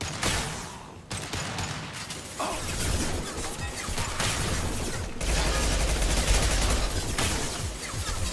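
High-impact weapon shots in Mass Effect 2 Legendary Edition come as a dense, loud barrage of crashing gunfire and heavy impacts, continuous and close with brief dips, and no talking.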